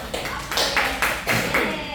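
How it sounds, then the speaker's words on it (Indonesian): A class of students in a microteaching session claps in a few loud, rhythmic bursts, close by, with no talking over it. "tepukan buat kalian semua"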